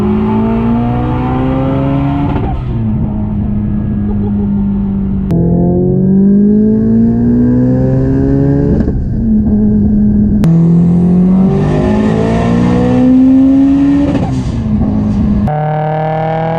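An 850HP Subaru STI running 42psi of boost revs and accelerates hard through several gears, each pull climbing in pitch before a sharp shift cut, loud and close throughout.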